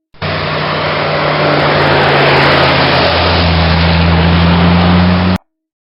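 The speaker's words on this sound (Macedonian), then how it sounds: "Звук се слуша деца и од автомобилот додека се движи." A car drives past with a steady, loud engine and road roar that holds evenly for about five seconds, a low hum running beneath it, then stops abruptly.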